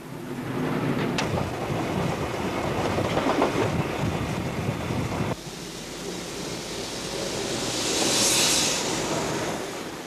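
A steam train in Poland rolls along the rails with a continuous rumbling roar and faint clacking, the sound shifting abruptly midway and swelling with a hiss near the end.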